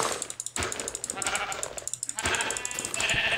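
Sheep bleat in the Minecraft video game, several loud, wavering cries close by, mixed with rapid hitting sounds and game noise.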